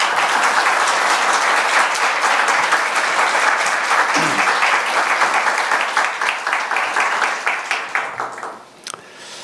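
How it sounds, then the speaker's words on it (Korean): A church congregation at a Sunday service applauds to welcome the pastor, sustained dense clapping filling the room for several seconds before thinning into scattered claps and fading out. "우리 목사님 나오실 때 큰 박수로 환영해 주시기를 바랍니다"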